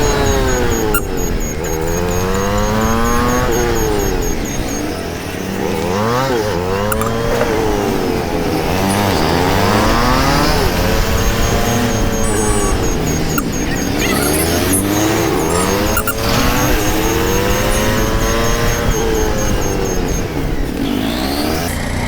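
A Runner AD80S motorcycle running in fourth gear at speed, heard as a loud, continuous engine drone whose pitch rises and falls in repeated sweeps, with wind noise and no talking.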